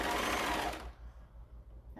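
A serger runs fast and loud while stitching a shirt seam, a dense mechanical whir that stops abruptly partway through, leaving faint handling sounds.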